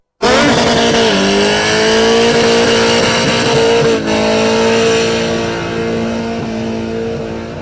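A drag race car does a long burnout on the strip at a test and tune night, a loud sustained engine scream with tire roar that starts abruptly, holds steady and slowly fades after about four seconds.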